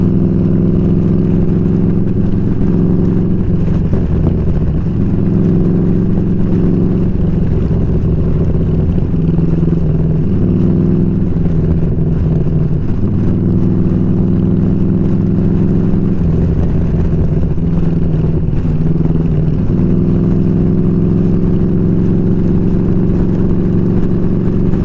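A 2003 Harley-Davidson Electra Glide motorcycle engine runs steadily and loudly up close, a continuous throbbing drone with slight shifts in pitch as it idles and is lightly revved, with no talking.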